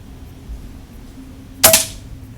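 A single sharp rifle gunshot fired from a rifle fitted with a night scope, one loud crack with a brief decaying tail over a quiet background.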